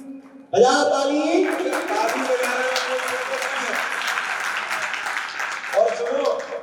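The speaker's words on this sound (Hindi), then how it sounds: "बजाओ ताली।" An assembly at a Jain sermon and religious ceremony breaks into applause, a crowd clapping loudly and steadily after a brief voice at the start, the clapping swelling again near the end.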